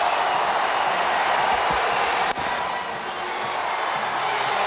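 A cricket crowd cheers steadily through the last ball of a super over between New Zealand and the West Indies, a broad roar with a sharp hit partway through and the noise holding afterward.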